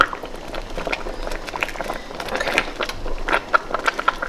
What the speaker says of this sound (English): Gonna let this boil for a while longer.